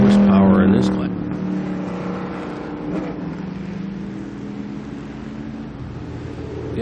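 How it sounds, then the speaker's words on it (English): A 1969 Corvette race car at a vintage race at Lime Rock, heard as a loud engine roar that swells briefly and then settles into a steady, sustained drone as the car drives past. "Another nice car in this class was number 50 there, a 1969 Corvette."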